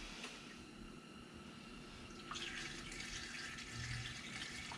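Kerosene being poured through a funnel into a kerosene heater, a steady close liquid trickle and splash that grows louder and fuller partway through, continuing without pause.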